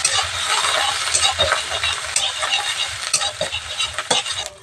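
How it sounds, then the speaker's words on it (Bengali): Fish roe frying in hot oil in a village kitchen, a steady close sizzle with occasional stirring scrapes, alone without talk. "ডিমটা আবার ভালো করে ভাজা হয়ে গেছে"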